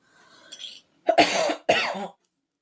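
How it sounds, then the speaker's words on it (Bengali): Two harsh coughs in quick succession, close and fairly loud, after a brief soft throat sound. "খুব কাশিও হয়েছে"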